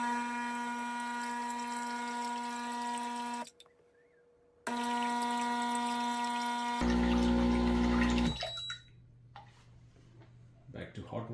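A Breville Barista Pro espresso machine runs its pump through a rinse cycle, a loud steady mechanical hum with a strong tonal whine, cutting off briefly, restarting, then shifting to a deeper rumble before fading into quieter clicks.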